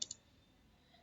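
Enter key pressed on a computer keyboard: two quick, faint clicks in close succession at the start, followed by near silence.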